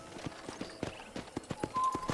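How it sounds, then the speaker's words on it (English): Horse hooves clip-clop in a steady walking rhythm through the Red Dead Redemption video game, with a ranch setting; repeated sharp, close hoofbeats over faint background tones. "I picked out a fine horse for you."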